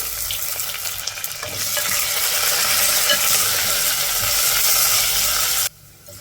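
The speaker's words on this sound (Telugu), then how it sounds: "పప్పు చారు అలా చేసుకున్నప్పుడు చూడండి ఈ విధంగా వేగాలి ఉల్లిపాయ ముక్కలు వెల్లుల్లి" Chopped onion, garlic and curry leaves frying in hot oil for a dal tempering: a loud, close, steady crackling sizzle that swells after a quieter start, then drops abruptly near the end.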